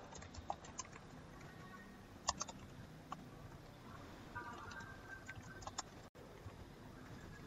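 Keyboard typing on a computer while a report outline is drafted, quiet irregular key clicks in short bursts with small pauses, faint room hiss beneath and no voices.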